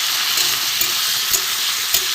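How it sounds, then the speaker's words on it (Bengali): Flat beans (botboti) fry in a pan with steady dense sizzling, close and loud, broken by a few soft scraping stirs of the spatula. "সবজিটা মোটামুটি ভাজা হয়ে গেছে।"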